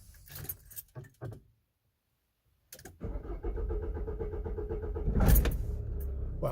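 Car with a Delphi injection pump that has metal filings in it, restarting: keys jingle and the starter clicks, then after a brief silence the engine turns over and catches into a steady, close idle.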